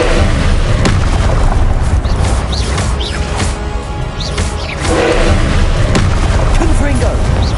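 An Incendio fire spell in the Hogwarts Legacy video game roars within loud, churning combat, sustained rumbling bursts with a short dip midway, while voices shout over the fray.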